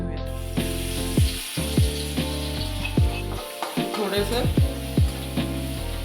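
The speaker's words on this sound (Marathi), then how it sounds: "तेल आता हे गरम झालंय, आपण एक ही ठेचलेली मिरची ह्याच्यामध्ये टाकून घेऊया." Crushed red chili is dropped into hot oil and fries with a loud, close crackling sizzle. Someone speaks briefly over the sizzling.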